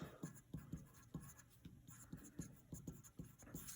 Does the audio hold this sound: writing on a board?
yes